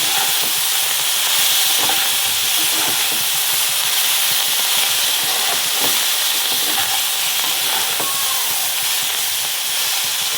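A spice mixture of turmeric and coriander leaves is stirred as it fries in a wok, giving a loud, steady hiss and sizzle with faint scraping throughout.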